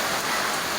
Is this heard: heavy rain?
yes